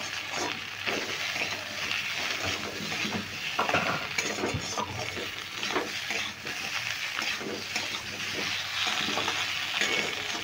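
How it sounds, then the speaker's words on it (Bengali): Potatoes dusted with turmeric fry in a pan with an even sizzle while a utensil stirs them in repeated scrapes and light clinks, close and steady throughout. "এটা 2 মিনিট মতন আমি একটু নেড়ে ভেজে নেব"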